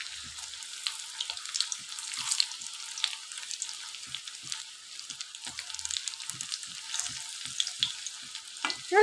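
Rice koftas frying in hot oil give a continuous soft sizzle dotted with small crackles and pops, close and steady, with no talking.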